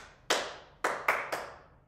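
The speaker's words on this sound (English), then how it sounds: "we're going to do clap the rhythm and move a bit at the same time" Hands clap a short rhythm during a violin warm-up exercise: four sharp, close claps, with the third and fourth coming quicker than the first two, and no voices between them.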